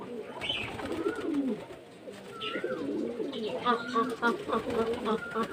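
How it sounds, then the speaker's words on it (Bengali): Pet pigeons coo softly and repeatedly while eating from a keeper's hand on a hot summer day, their low rolling calls close by and mixed with someone speaking. "দেখুন পায়রাগুলো দিয়ে আমার থেকে খাওয়া শুরু করে দেখবেন দেখুন কেমন খাচ্ছে"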